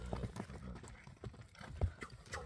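A large Kyrgyz horse is led along at a slow walk, its hooves clip-clopping in an uneven rhythm close by, faint against quiet background noise with a few light thumps.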